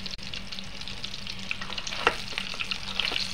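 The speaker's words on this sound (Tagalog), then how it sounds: "unahin natin ang hotdog. Malapit na siyang maluto." Hotdogs fry in a pan with a quiet, continuous sizzle and light crackling pops, plus occasional soft clinks of stirring; no one speaks.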